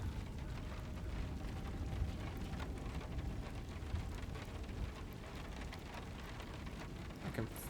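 Rain falls steadily in the video game Hell is Us, a dense, even patter of drops with occasional louder splashes and a low rumbling undertone, heard alone at a moderate level.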